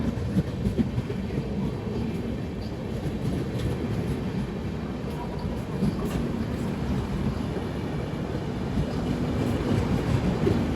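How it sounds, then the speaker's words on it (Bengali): The Ajmer Express train rumbles steadily into Bardhaman station platform 1 with a low, continuous roar and faint rhythmic clatter, fairly close, no voices. "আমাদের ট্রেন আজমির এক্সপ্রেস ঢুকে গেল বর্ধমান স্টেশনের 1 নম্বর প্ল্যাটফর্মে"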